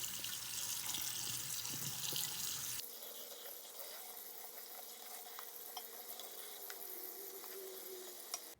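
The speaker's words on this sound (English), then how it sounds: "Just run cold water on it." Cold water running from a kitchen tap over cooked mac and cheese noodles in a sink, a steady close splashing rush that thins out partway through and continues alone with faint clinks.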